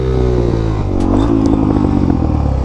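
Suzuki DRZ400SM supermoto engine in first gear at low speed during a wheelie, a loud steady close-up drone whose pitch sags and drops off midway, with a little mechanical clatter throughout.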